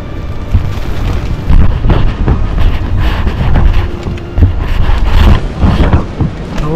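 Strong monsoon wind in a jungle campsite buffeting the microphone, loud continuous roaring gusts with deep rumbling surges rising and falling throughout.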